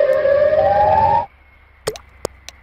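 Siren Head's siren wail in a video game: a loud, sustained droning tone that rises slightly in pitch for just over a second, then cuts off abruptly, followed by a few faint clicks and drips.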